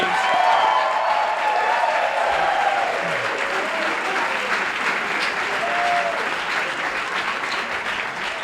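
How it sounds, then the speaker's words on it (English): A live audience applauds all three competing teams at a judged show, a steady, full round of clapping from a sizable crowd that holds evenly and fades slightly toward the end. "Let's have a round of applause for all 3 teams."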